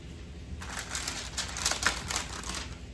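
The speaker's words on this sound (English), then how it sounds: "I'm going to cut up some of these tomatoes because they're going in" Kitchen knife slicing through fresh tomatoes, a run of crisp, quick cuts and crunches close up, moderately loud with no talking.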